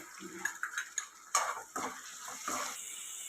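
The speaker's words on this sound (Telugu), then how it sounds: "ఎర్రగడ్డలు ఇలా వేగిన తర్వాత ఇందులోకి పచ్చిమిరపకాయలు వేయాలన్నమాట. వేసి బాగా కలబెట్టాలి." A spoon stirs green chillies frying with onions in a pan, with several distinct scraping and clinking strokes over a low, steady sizzle.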